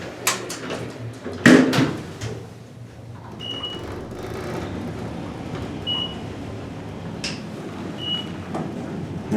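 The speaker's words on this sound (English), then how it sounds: "The door sensor beeps as the door opens." A modernized Westinghouse traction elevator's door slides open in an office building, with soft mechanical rumbling and a short, faint sensor beep repeating about every two seconds.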